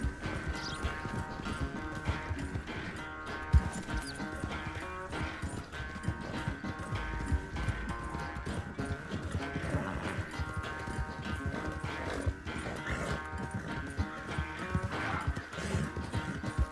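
Horse hooves clip-clop steadily through Red Dead Redemption 2 game audio, a continuous rhythmic trot mixed under dense music and ambient game sound.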